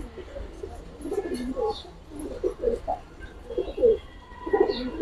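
Giribaz and Lalpaoi military pigeons coo close by in a series of soft, throaty, rolling burbles, repeating every second or so, with quiet voices talking in the background.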